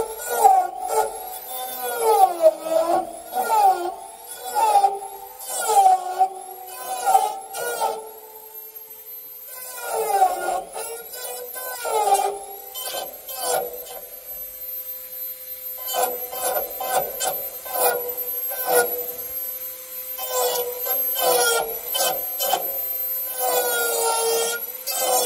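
A Dremel rotary tool carves a wood spirit figure, whining in short bursts with pitch dips as it bites into the wood, pausing between passes, then running in longer stretches.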